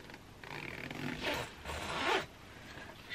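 Zippers on a large school knapsack's pockets are pulled open and shut in several quick raspy strokes, close and clear, with no talking.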